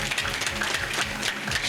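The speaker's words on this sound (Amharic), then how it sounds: "አጨብጭቡ ለጌታ ክብር።" A church congregation claps together for the glory of the Lord, a dense, continuous wash of many hands clapping at once, sounding close and full throughout the short burst.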